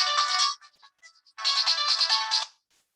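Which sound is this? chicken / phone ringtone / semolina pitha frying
phone ringtone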